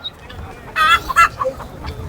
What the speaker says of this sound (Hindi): और उधर मुर्गा है।